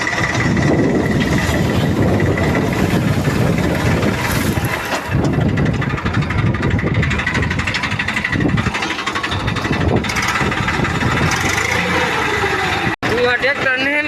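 Steady, loud engine running on a freshly repaired farm tractor, a continuous mid-pitched throb close by that holds for most of the stretch before cutting out briefly near the end, with people talking over it.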